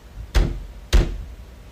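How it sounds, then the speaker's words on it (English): Two heavy, loud thuds about half a second apart strike a basement door at night, each a single booming knock with no other sound between. "Some loud knocking can be heard coming from the basement door"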